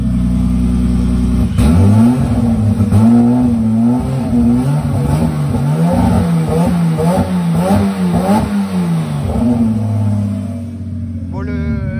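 A turbocharged BMW 325i E36 engine revs repeatedly, loud and close, with rising and falling pitch in quick bursts and some rough misfiring, then settles to idle.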